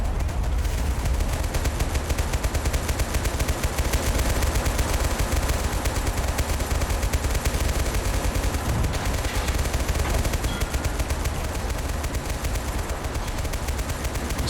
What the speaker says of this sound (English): There's something firing over here that I can't see great.